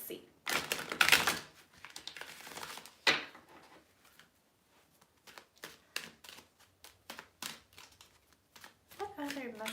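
Tarot cards shuffled by hand for a reading: two riffling bursts near the start, then a run of quick, soft card taps and clicks, fairly close and moderately quiet.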